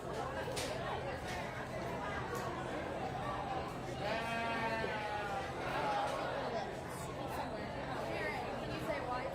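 Sheep bleating at a county fair sheep show, several wavering calls rising over the steady murmur of a chattering crowd and an announcer's voice in a large livestock barn.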